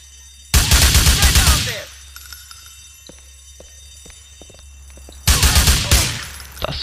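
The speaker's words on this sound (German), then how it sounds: "Das war kein sehr schlechter Schuss." Gunfire from the video game GTA IV: a dense burst of rapid shots for about a second, a quieter stretch with scattered single cracks, then another loud volley near the end.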